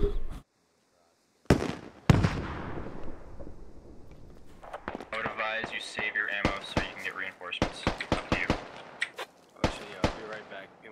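Mortar rounds fire and land during a Squad military shooter match: a series of sharp, booming impacts and cracks scattered irregularly over several seconds, some near and loud, others with trailing echoes.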